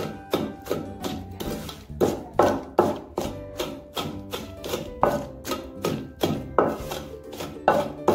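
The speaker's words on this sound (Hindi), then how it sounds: "अब इनको मजीद मैंने कूट लेना है" Guava chutney with sugar and salt pounded by hand, a steady series of close, sharp thumps in an even rhythm, about two per second, with no talk.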